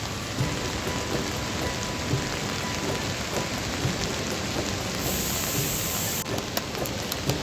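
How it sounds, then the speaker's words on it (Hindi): Heavy monsoon rain pours down in Uttarakhand, a dense, constant hiss of drops on surfaces recorded from a rooftop, loud and unbroken with no voices. "बहुत ज़्यादा बारिश हो रही है।"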